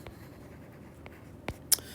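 A pen writes on a paper graph during a lecture: faint scratchy strokes over a quiet room tone, with a couple of brief sharper marks near the end, close and soft.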